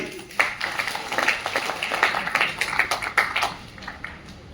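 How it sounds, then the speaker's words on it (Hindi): An audience at a business seminar on the RCM system bursts into loud applause, with dense overlapping claps over about four seconds and voices mixed in. "जोरदार ताली।"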